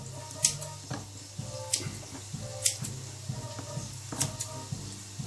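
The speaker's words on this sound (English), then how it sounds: "just get involved with the scissors. Snip, snip" Kitchen scissors snip through salmon with a few sharp, separate cuts spread across the stretch. Soft clatter from a board and utensils sits underneath.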